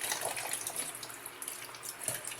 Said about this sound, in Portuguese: Eu vou botar um pouquinho de água.